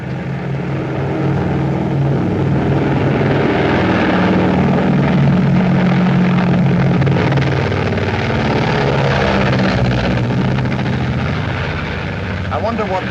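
Propeller aircraft engines drone steadily and loudly in flight throughout, a dense continuous rumble with no break, in a late-1930s comedy film setting.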